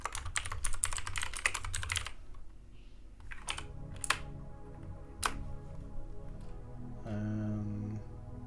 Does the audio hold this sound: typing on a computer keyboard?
yes